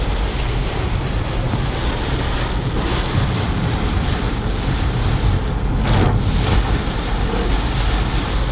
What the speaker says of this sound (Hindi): वाइपर देख लें, मैंने लास्ट स्पीड पर रखे हुए हैं, बहुत तेज़ है, लेकिन बारिश बहुत ज़्यादा तेज़ है।